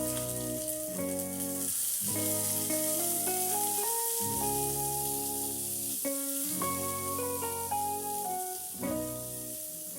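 Mustard seeds, dried red chillies cut in half and curry leaves sizzling in hot oil as a tempering for dal curry, a steady hissing crackle heard beneath prominent background music.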